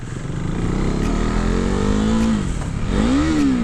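A 2016 KTM Duke 390 motorcycle being ridden, its engine droning steadily up close and rising in pitch as it revs through the gears, loud and continuous throughout.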